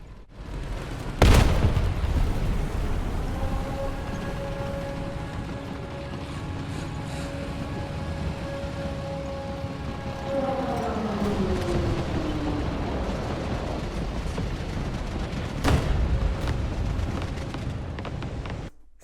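A nuclear strike detonates in the tank game War Thunder, heard as a loud, sudden boom with a long rumbling roar. A second heavy blast hits near the end, over steady tonal engine drone.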